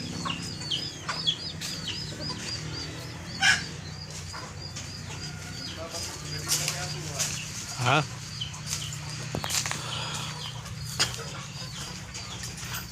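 Chickens cluck and chatter in a yard, scattered calls near and far, with occasional voices and rustling in the background. Some are 45-day-old chickens.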